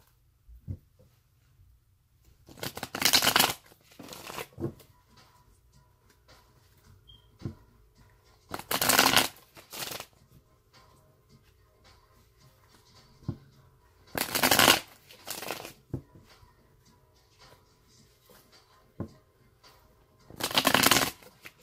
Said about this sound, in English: Okay, so I'm going to shuffle it three more times